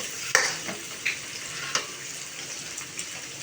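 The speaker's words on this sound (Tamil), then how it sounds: "முட்டை ஒன்று பொத்து ஊற்றி நல்லா அது மாதிரி கிண்டிக்கலாம்" Onion and beaten egg fry in a pan for fried rice, a steady close sizzle broken by several sharp scraping stirs of the spatula, with no one talking.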